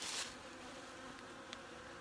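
Honey bees foraging on a tote holding a little syrup in a cold winter yard, a steady faint buzzing hum throughout with a brief louder swell near the start.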